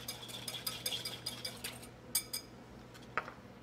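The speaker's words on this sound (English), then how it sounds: "So let's go ahead and whisk that together." Vegetable oil and olive oil being whisked together in a bowl at a Labor Day cookout, a series of quiet, irregular clinks and taps of a whisk against glass over a low steady hum.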